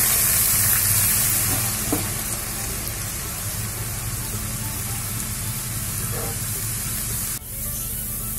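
Grated potato and sago frying in hot oil give a steady, loud, dense sizzle that holds for the whole stretch, with a brief dip near the end and no talking.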